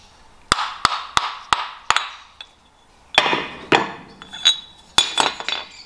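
Copper hammer tapping a bearing off a vacuum pump shaft held in a vise, from a YD25 Navara pump rebuild: a run of five sharp, evenly spaced metallic taps, a pause, then a looser cluster of ringing strikes.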